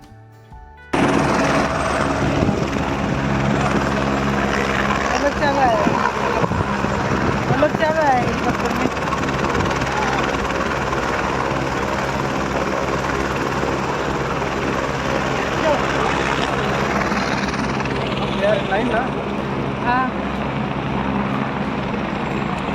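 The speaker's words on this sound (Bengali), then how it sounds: "ওই দেখুন একটা হেলিকপ্টার যাচ্ছে।" A helicopter flying past near the Kedarnath helipad fills the scene with a steady rotor thrum, loud and continuous, with people talking over it and the engine noise shifting slightly as it passes.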